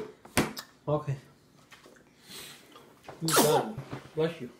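A baby girl gives a small, sharp sneeze, followed by a second burst, with adult voices speaking close by.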